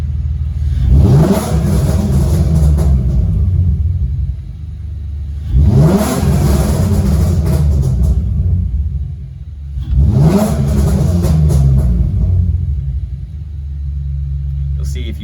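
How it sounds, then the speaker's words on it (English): BMW E46 track car engine revved three times with exhaust pops on the trailing fuel cutoff, each rev rising then crackling as the throttle closes, over a steady idle rumble. "here you should be able to hear the difference in the trailing fuel cutoff when I read the throttle"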